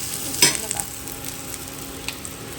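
Food sizzles in a pan with an even, soft hiss, broken near the start by a sharper scrape of stirring and a few light clicks after.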